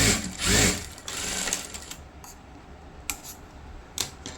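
Sewing machine stitching the front part of a deep-neck blouse, with short bursts of fast mechanical whirring followed by quieter ticking and handling noises nearby.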